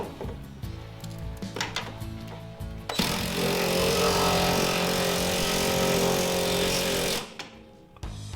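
An angle grinder cuts pieces of metal during a vehicle reassembly. A loud, continuous grinding whine runs for about four seconds, then cuts off, with quieter clanks and engine-like tones before it.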